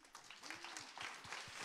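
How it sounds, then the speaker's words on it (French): A live music showcase audience applauds faintly in a soft, continuous patter of clapping, with a voice briefly audible over it. "on peut être applaudis nous aussi"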